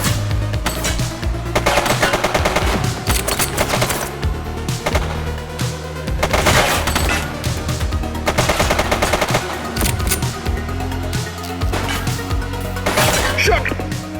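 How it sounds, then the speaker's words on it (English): Sustained gunfire rattles through The Precinct, loud machine-gun bursts and repeated sharp shots crowding together nonstop, with brief shouted voices mixed in. "He's shooting!"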